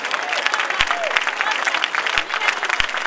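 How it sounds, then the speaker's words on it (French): A church congregation applauds and cheers during a sermon, steady dense clapping with a few sharp thuds and voices mixed in throughout. "Est-ce qu'on peut acclamer le Seigneur?"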